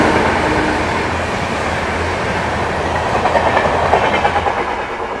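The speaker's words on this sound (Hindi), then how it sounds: "टुवर्ड्स मुंबई जाने वाली अगस्त क्रांति तेजस राजधानी एक्सप्रेस।" The August Kranti Tejas Rajdhani Express, bound for Mumbai, rushes past close by as a loud, continuous rumble with steady clickety-clack from its wheels on the rails throughout.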